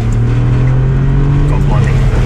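A Ford Fiesta ST with a hydraulic handbrake is driven hard into a corner, its engine droning loudly and steadily from inside the cabin, with a voice briefly heard over it.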